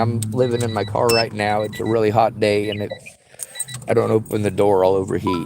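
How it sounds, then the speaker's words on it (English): Faint, short electronic beeps repeat at intervals inside a parked car on a hot day, partly buried under a man's loud, continuous speech. "I'm sorry for the beeping."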